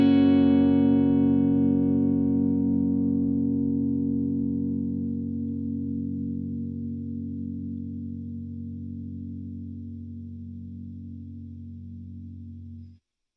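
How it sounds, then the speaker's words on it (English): Electric guitar played through a TC Electronic Plethora X5 with the compressor on rings out as a single held chord, slowly fading over about thirteen seconds before cutting off, with no other sounds. "this helps the guitar sustain its sound for a lot longer"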